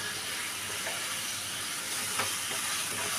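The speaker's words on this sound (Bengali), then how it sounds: "মশলাটা নেড়ে চেড়ে ভালো করে কষিয়ে নেব।" Aloe vera pieces with turmeric and spices stir-fry in a hot pan, giving a steady, even sizzle with faint stirring scrapes and no voices.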